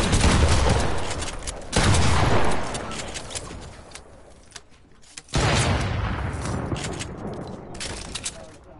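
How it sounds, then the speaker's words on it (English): Loud bursts of Fortnite gunfire come in two long volleys separated by a quieter stretch with a few isolated shots, with faint voices underneath. "Alex, keep shooting him from that way."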